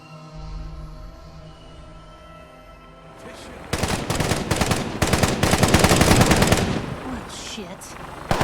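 Rapid automatic gunfire in a video game, shooting at a vertibird: quiet ambient start, then dense, loud bursts of shots roughly from three to seven seconds, trailing off near the end.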